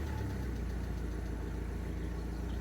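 Used diesel car engine at a dealer auction, with leak-down trouble on the injectors, idling steadily after starting, a low rhythmic chug with a faint ticking, quiet and even throughout.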